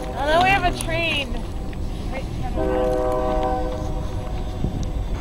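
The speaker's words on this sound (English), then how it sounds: "Oh, no, we have a train." A train passes on a Wisconsin country road at night, its horn sounding in a loud bent blast and then a long steady chord, with rumbling wheels underneath and people talking over it.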